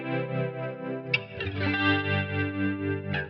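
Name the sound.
electric guitar with tremolo modulation effect, Line 6 Helix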